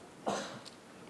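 A lecturer at a Bible science seminar gives a single short, hoarse cough, close and alone, followed by quiet room tone.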